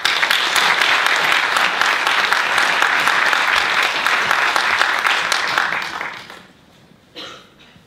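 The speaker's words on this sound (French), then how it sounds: "vous pouvez applaudir Rémédane et Gabriel qui vont incarner 2 de ces étudiants" Theatre audience at a cinema-theatre performance applauding loudly and densely for about six seconds, then fading to near silence with a brief final burst of a few claps.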